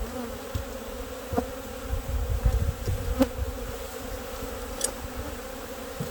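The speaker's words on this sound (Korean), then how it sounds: "아 벌이 굉장히 많고요" Honeybees buzz around an open hive during a spring box change, with a steady, close, continuous drone and a few louder passes from single bees.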